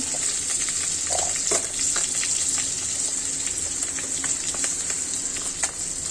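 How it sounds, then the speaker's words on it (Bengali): Cumin seeds and five-spice (panch phoron) sizzle steadily in hot oil in a home kitchen, a loud continuous crackling hiss with small pops and occasional stirring scrapes throughout. "জিরা অ্যাড করে দিচ্ছি পাঁচফোড়ন"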